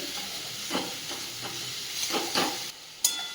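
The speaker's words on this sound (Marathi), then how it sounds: "आणि दोन साधारण दोन मिनटं तरी ही कैरी आपण थोडीशी परतून घेऊयात" Chopped raw green mango, mixed with salt and a little sugar, sautéed in a pan, giving a soft steady sizzle broken by light scraping stirs and a sharp clink near the end.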